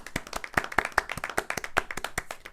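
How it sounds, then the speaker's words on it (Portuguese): Sparse hand claps from a few people, sharp and distinct in an uneven quick rhythm, close and fairly dry, with no speech over them. "Palmas."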